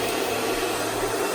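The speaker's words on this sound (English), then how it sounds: "I'm allowing the hairdryer to just smoothen the hair out" Hair dryer blowing steadily during a salon blow dry, a loud continuous whooshing airflow with no pauses over a brief stretch.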